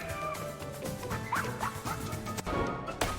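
A cartoon dog gives a few quick yipping barks amid crashes and thwacks in a frantic cat-versus-dog chase, all short and busy over a cluttered background.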